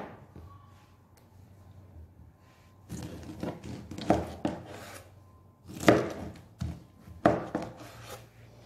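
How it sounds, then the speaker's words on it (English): A pineapple being chopped into small chunks on a cutting board, with three clusters of close knife strikes arriving after a quiet start, each burst sharp and choppy. "So now I'll chop my pineapple small chunks."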